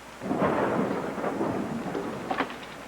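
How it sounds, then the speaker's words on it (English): Heavy rain pours steadily with a deep rumble of thunder rolling underneath, close and fairly loud, with no voices. "It's raining cats and dogs out there"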